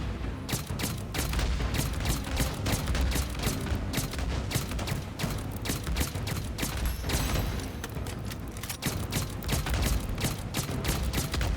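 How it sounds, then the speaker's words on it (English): B&D X34 gas rifle fired in the game Days Gone in a rapid, sustained burst of dense cracking shots that run on continuously and loud, with mechanical clatter mixed in. "let's use our B&D X34 gas rifle"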